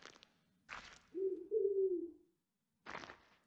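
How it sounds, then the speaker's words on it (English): Birds coo in the horror video game Paranormal Records, a soft low pigeon-like warble between short bursts of rustling flutter, moderately close in an otherwise quiet scene. "So many birds."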